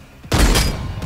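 Sniper rifle shot in Vampire Bloodhunt, a single loud booming report with a short tail, close and alone.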